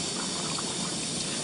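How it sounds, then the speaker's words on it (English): Water trickles and pours steadily into a device's connection slots during cleaning of equipment, a soft continuous liquid wash with no voices. "Put the water in there"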